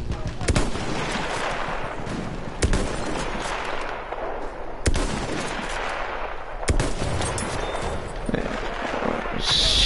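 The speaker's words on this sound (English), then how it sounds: "They're shooting me from that far with LMGs" Light machine gun fire crackles in Battlefield 1 on PS4 Pro, a dense stream of gunshots punctuated by several sharp, loud cracks spaced a couple of seconds apart, steady throughout with no speech.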